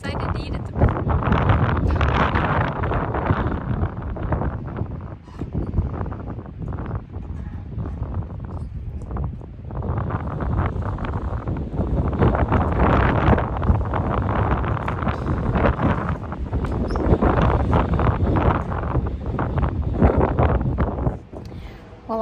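Strong wind at Caprock Canyons buffets the microphone in loud, uneven gusts for a long stretch, rising and falling with brief lulls.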